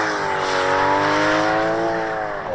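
An Aston Martin DBS Superleggera engine revs hard and loud, its pitch climbing and then steadily holding in a continuous, close, snarling roar with a hint of tire noise, no voices heard.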